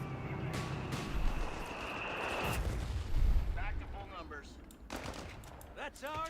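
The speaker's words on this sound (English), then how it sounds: "Mortar." Mortar fire in the Company of Heroes 3 strategy game, muffled booms and rumbling battle noise rising and falling, with commentators talking over it.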